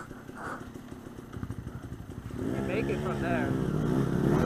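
A dirt bike engine revs on a hill climb at Wildcat in Arizona, a rapid throbbing idle swelling into a louder, rising mid-pitched roar as the throttle is held, with people talking over it.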